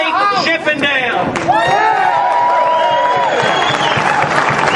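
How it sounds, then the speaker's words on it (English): A crowd at an outdoor rally applauds and cheers steadily, with a voice speaking over the clapping. "let's have a big round of applause."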